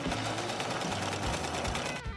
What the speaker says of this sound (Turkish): Sihirli bir dikiş makinesi.